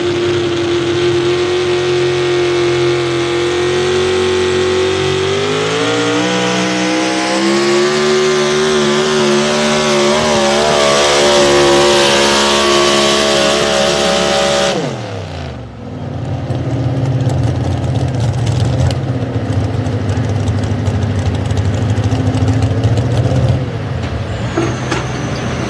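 A race car engine revving up at a drag race event at Millers Tavern, Virginia, climbing steadily in pitch over many seconds to a loud peak, then cutting off abruptly into a lower rumbling idle, close and loud with no talking.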